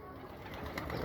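A male pigeon coos briefly and softly at close range, with a short low call and no talk over it.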